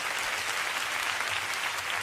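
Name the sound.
church congregation applause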